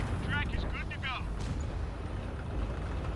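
Heavy cannon boom from a T110E4 tank destroyer in World of Tanks sounds as one deep, loud blast over rumbling battle noise. Chirping bursts of other game effects come early in the clip.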